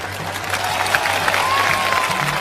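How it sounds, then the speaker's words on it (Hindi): Crowd clapping to welcome the judge at a Pakistani rooster crowing contest, a short burst of dense applause with some cheering, a voice speaking over it and a faint whistle-like tone near the end. "तालियां"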